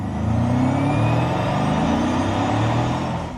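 Steady road and tyre rumble from a 2026 Porsche Cayenne Turbo Electric driving along, a continuous close hum with faint rising whine and no talk.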